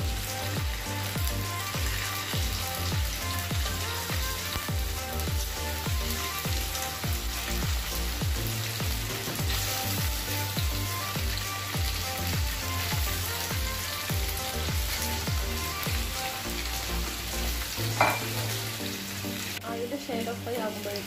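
Mackerel frying in two tablespoons of coconut oil in a frying pan, giving a steady, close crackling sizzle that carries on without a break, with small spatters and a brief clatter near the end.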